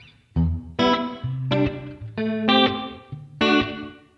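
An electric guitar plays a handful of distinct chords, each ringing out with a room reverb from a Rev-X effect through a UR22C USB audio interface, with no talking.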